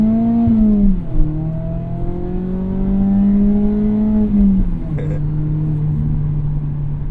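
Exhaust of a Mazda ND3 Miata accelerating from inside the car, a smooth rising engine drone that climbs through a gear, dips at a shift and climbs again, moderately loud and not harsh.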